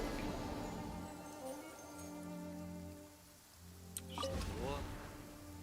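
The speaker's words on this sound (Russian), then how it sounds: "О, а тут дождь." Rain falls in the video game Genshin Impact, a soft pattering hiss of raindrops layered under game music and tones, with a person talking faintly at times.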